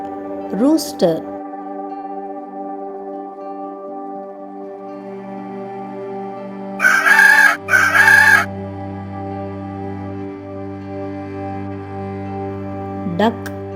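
A rooster crows twice, loud and close, a pair of strident cock-a-doodle-doo calls in the middle, over a steady background hum, with brief soft sounds near the start and end.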